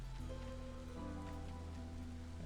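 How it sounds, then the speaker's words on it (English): Steady drizzle falling in the Against the Storm city-building game, a soft, continuous patter of rain beneath a low musical drone, quiet and unbroken throughout. "And we're in the drizzle season."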